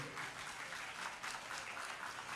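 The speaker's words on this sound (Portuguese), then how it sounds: "Vamos aplaudir esses avós aí." A church congregation applauds the grandparents on Grandparents' Day: faint, distant, steady clapping with soft fluctuations, heard alone.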